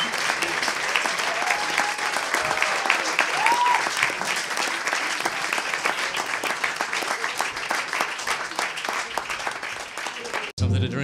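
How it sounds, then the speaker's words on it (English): An audience at a living room concert claps steadily and densely for about ten seconds. A few voices cheer faintly under the applause before it cuts off abruptly near the end. "Another round of applause for us."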